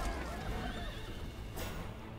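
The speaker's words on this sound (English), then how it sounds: "Horse." A horse gives a whinny, a wavering neigh over steady broadband noise, with a burst of louder rustle near the end.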